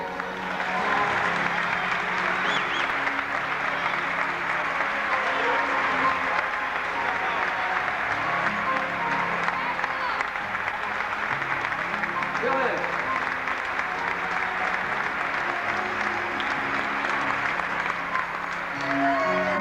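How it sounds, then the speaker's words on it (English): Sustained audience applause for a co-producer at an Olympic gymnastics reunion, a dense, even roar of many hands clapping that holds steady for the full stretch without letup. "Would you please give a nice round of applause to our co-producer, Bill Innes."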